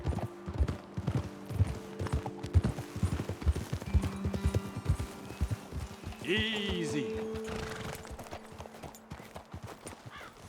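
Horses walk at a slow pace in Red Dead Redemption 2, hooves clip-clopping steadily and close by, with a brief neigh partway through and characters talking over the hoofbeats.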